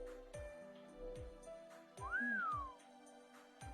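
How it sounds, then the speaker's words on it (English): A person whistles a short rising-and-falling tune with a few clear notes, fairly close, over a quiet background with a faint soft melody. "Good whistle."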